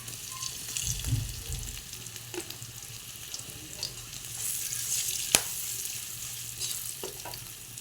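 Onion and chili fry in a pan, making a continuous close sizzle with soft stirring and one sharp metallic clink partway through. No one speaks.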